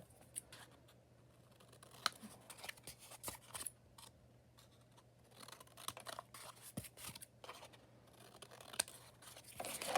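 Scissors snip through bookbinding cover material in a straight line for a hardcover binding, a series of sharp, close, irregular cuts and rustles over about ten seconds with short quiet gaps.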